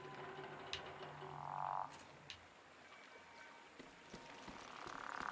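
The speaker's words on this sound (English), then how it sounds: "I think those are frogs." Frogs call outdoors in a quiet setting, with two faint, drawn-out croaking calls separated by a low background hiss and small scattered clicks.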